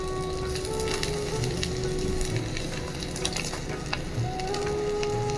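Pieces of brain bun pizza fry in a pan with a steady, close sizzle, broken by light scraping and clinks from turning them.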